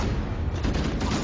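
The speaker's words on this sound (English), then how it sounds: "Who's shooting me?" Gunfire in the Halo video game, a dense rapid burst of shots packed into a brief loud stretch with low booming weight.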